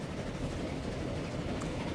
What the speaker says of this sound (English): I can hear a train breaking over the rise here.